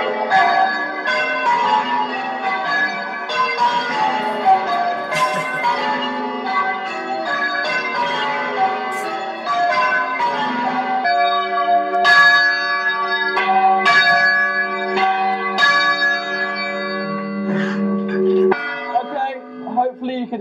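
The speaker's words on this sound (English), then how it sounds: "these bells are quite loud, and you can imagine, you can hear them miles away" Church tower bells peal loudly and continuously from close range inside the bell tower, overlapping strikes ringing out with sustained, layered tones and no pauses.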